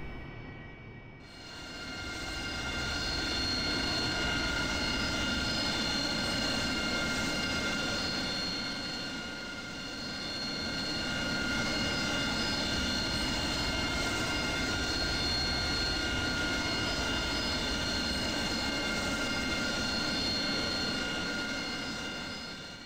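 An AV-8B/NA Harrier jet taxis in DCS World. Its engine whine is loud and sustained, with steady high tonal lines over a broad roar that swells and dips gently across the run, and there is no talk.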